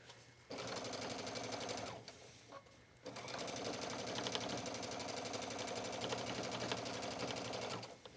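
A sewing machine runs steady stitches along the edge of a hooded towel, humming loudly and continuously with one short pause early on, then resuming without a break.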